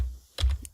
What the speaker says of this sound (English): Again, you can type in the hexadecimal code